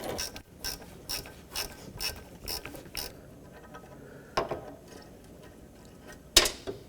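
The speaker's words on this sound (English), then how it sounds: "The only problem is now I can't use this ratchet forever because it's gonna bottom up against the frame." A ratchet clicks in short rhythmic bursts while turning an exhaust manifold bolt on a 2005-2010 Pontiac G6, near and fairly quiet, with a few sharper metallic clacks toward the end.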